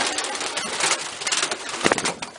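Rollers and racing homer pigeons in a loft, a dense, steady layer of cooing and rustling from many birds at close range, with a louder burst near the end.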